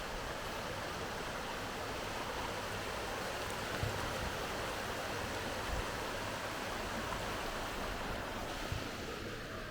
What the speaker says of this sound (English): the village has got a small river running through it, possibly coming straight down from the mountains